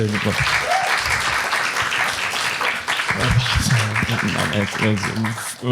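Audience applauding steadily in a dense wash of clapping, with voices speaking over it throughout.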